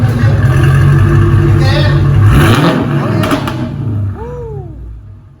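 A Mercedes CLK500 V8 with DynoMax Race Bullet mufflers gives a single loud, close rev that swells and then falls away, a voice speaking over the engine before it fades toward quiet.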